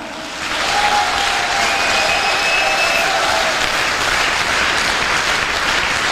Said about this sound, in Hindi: ऐसे दमदार अपलाइनों के लिए दमदार ताली होनी चाहिए, दमदार।